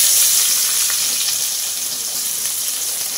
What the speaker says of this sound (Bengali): এবার এই তেলের মধ্যে একটা বড় পেঁয়াজ কুচি দিয়ে দেব